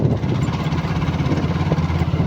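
A motorcycle engine idles close by with a loud, steady low rumble and rapid even pulsing, running alone without voices for the whole short stretch.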